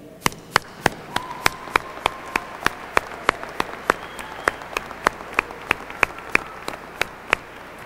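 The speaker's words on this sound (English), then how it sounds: "let's have a round of applause for all the family and friends who've supported us throughout our college careers" Audience at a college graduation ceremony giving a round of applause for supporting family and friends, heard as a steady run of sharp, evenly spaced claps over a low room murmur, moderately loud and without talk.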